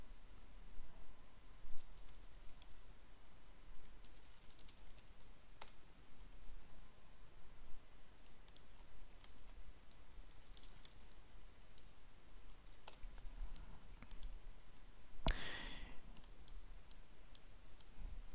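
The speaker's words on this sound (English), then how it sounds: "if you start typing, this will add text to it." Quiet, scattered keyboard taps and mouse clicks at a computer, spread out over steady background hiss with one louder click cluster near the end; no talking.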